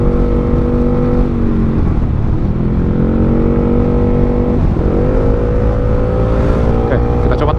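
Yamaha XMAX 400cc scooter fitted with a full exhaust, revving hard in loud, sustained pulls with rising and falling engine pitch, close up, and a brief dip between throttle blips.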